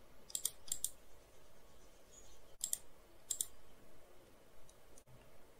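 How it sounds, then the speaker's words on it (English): A computer mouse clicking in a quiet room, several sharp crisp clicks arriving in small pairs and singles with pauses between, close and alone over faint background hiss. "You just need to click on this link."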